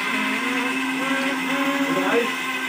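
A kitchen mixer grinder grinds peas with a steady, loud motor whine that holds constant throughout, rising slightly near the end.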